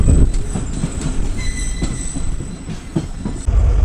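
A moving train pulled by a GMU 30 diesel locomotive rumbles past with a steady low roar, faint wheel squeal and rail noise, loud and continuous throughout.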